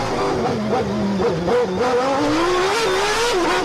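A race car engine in Assetto Corsa at Monaco with a manual gearbox, whining loud and close as its pitch climbs and dips through shifts and throttle changes.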